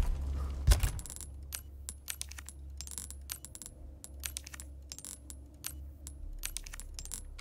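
Inventory items in Resident Evil 4 Remake dropping one after another, a quick burst of small metallic clinks and clatters over a low game hum, fairly close and moderately loud.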